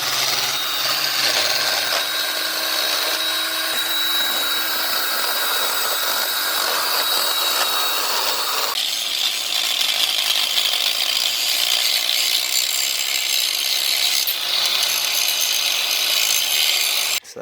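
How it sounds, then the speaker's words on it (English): A power tool grinds down raised ridges on a Honda engine block, a loud, continuous abrasive whine that runs steadily throughout and shifts in pitch partway through, with no talking. "we're actually gonna grind this part of the block down, those ridges right there, to get this back to where it was"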